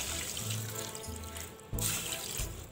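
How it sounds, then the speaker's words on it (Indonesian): Water poured into a pot of chicken broth with carrots, a steady splashing stream in two close bursts, fairly quiet, with no talk over it. "Kita tambah airnya sedikit,"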